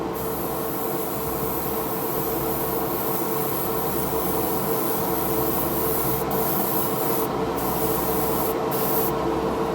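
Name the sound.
air compressor running for spray painting a car model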